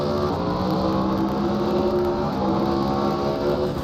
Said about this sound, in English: A little bit of shifting here.